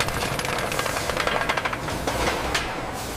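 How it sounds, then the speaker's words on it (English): Polished brass bullet casings tumble and clatter into sorting bins in a factory, a dense, continuous metallic rattle of many small pieces striking together, steady and close with brief brighter jingles. "Polished casings drop into sorting bins"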